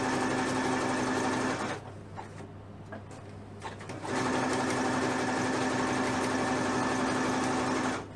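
A sewing machine runs a zigzag stitch onto elastic for leggings, a loud steady whir for nearly two seconds, a quiet pause, then another long stretch of continuous stitching up close.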